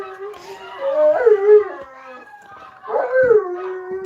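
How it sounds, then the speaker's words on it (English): Several pet dogs howl together in a rising and falling chorus, two long wavering bursts close by indoors, with a person speaking briefly under the howls. "Who doesn't like a dog choir?"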